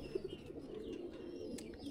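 Pigeons coo softly in a loft that houses a large flock of racing pigeons, with low, repeated murmuring calls running steadily throughout and a few brief brighter chirps over the top.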